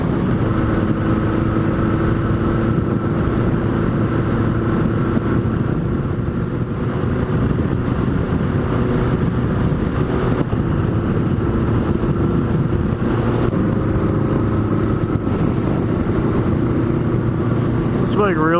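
A motorcycle nicknamed the Nighthawk, ridden on an evening cruise and lacking a sixth gear, drones steadily at cruising revs with road and wind roar, beneath someone talking throughout.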